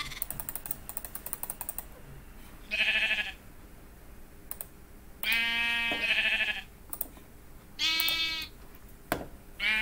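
Sheep in the video game Minecraft bleating in three distinct loud calls, each about a second long, separated by quiet gaps with faint keyboard clicks and a few sharp taps.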